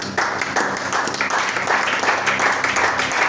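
A church congregation at a prayer service applauds together in a dense, steady wash of clapping that runs loud and unbroken for a few seconds, with no talking over it.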